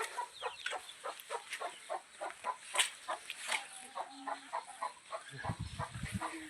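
Chickens cluck repeatedly in a steady, pulsing rhythm nearby, with a brief low rumble of handling noise near the end.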